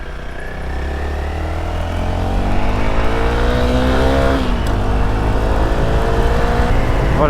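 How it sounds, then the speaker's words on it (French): A motorcycle engine labours uphill as it warms up, droning loud and close with a rising, sustained rev that keeps climbing in pitch before it briefly eases and holds steady. "la moto elle est en train de chauffer"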